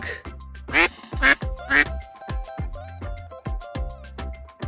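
A duck gives a run of repeated nasal quacks in an uneven rhythm, close and clear, with short pauses between the calls and no talking.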